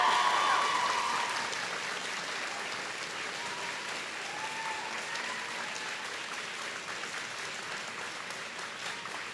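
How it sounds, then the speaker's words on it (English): Audience applause at a Trent University convocation ceremony for graduates, a dense steady wash of clapping that starts loud and settles into a sustained, even ovation throughout. "give a round of applause for the"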